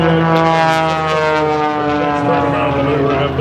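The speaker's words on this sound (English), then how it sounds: "The airplane starts to fly again." A biplane's propeller engine drones loudly overhead at an air show, a steady, buzzing whine that holds for a few seconds with no talk.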